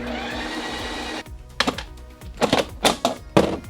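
A Ninja Creami machine respins a light ice cream base with a loud, dense whir for about a second, then stops abruptly and gives way to a run of scattered knocks and clunks.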